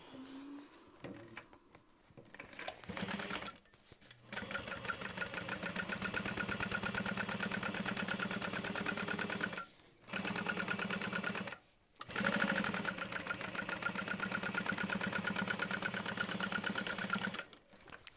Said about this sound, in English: So I'm going to do a second row of stitching.